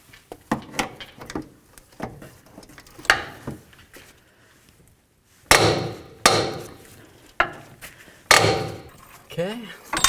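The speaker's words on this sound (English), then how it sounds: "I'll come up there with my ratchet and start loosening it up" A ratchet works loose a nut on the control arm bolt of a 2007-or-later Toyota Tundra's front upper control arm. Sharp metallic clicks and clanks come in separate bursts at close range, with short quiet gaps between them.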